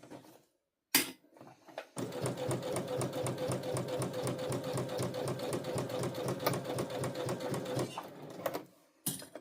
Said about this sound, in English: This sewing machine sounds a little cranky.